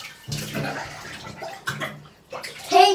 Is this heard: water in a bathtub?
yes